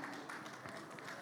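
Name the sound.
audience applause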